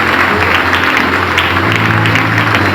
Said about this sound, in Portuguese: Quer aplaudir de novo a palavra do Senhor?